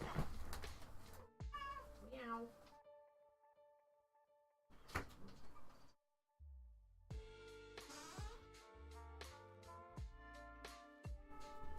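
A cat meows several times in short bursts indoors, with door and cupboard-like knocks and clatter between the calls, then a busy stretch of rhythmic tapping and clinking toward the end.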